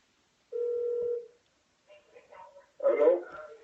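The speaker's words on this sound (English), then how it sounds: "Can you guys hear the phone ringing?" A telephone rings once with a steady electronic tone, then falls silent before a person starts talking nearby.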